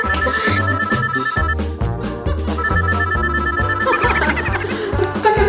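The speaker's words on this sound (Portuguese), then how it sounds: "Barulho do meu celular." A mobile phone rings with a repeating melodic ringtone, loud and close, a steady pattern of bright electronic tones playing throughout with no talking over it.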